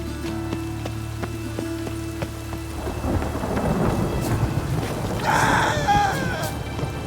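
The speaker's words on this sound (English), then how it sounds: "A storm, damn it." Thunderstorm in The Witcher 3 video game: steady rainfall patters on surfaces while deep thunder rumbles build and roll in, growing louder toward the end, with no talking.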